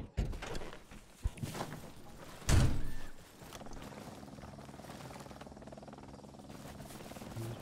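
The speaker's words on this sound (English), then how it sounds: "Chopper out and about again." A helicopter in the video game Arma Reforger, a steady rotor drone humming in the distance after a few sharp in-game clicks and a thump.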